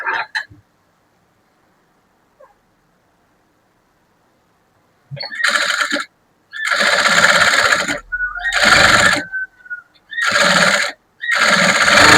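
Quick bursts of sewing machine stitching top-stitch a blouse neckline, several loud, close runs separated by short pauses after a quiet stretch at the start.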